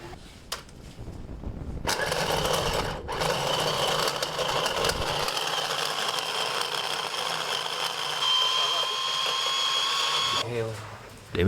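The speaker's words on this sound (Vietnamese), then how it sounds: "Củ riềng sẽ bỏ vô cái máy xay sinh tố này để xay nhuyễn ra." Blender grinding galangal root into a paste in an outdoor cooking setting, a loud sustained whirring motor that starts abruptly after a short pause and runs steadily for about eight seconds before stopping.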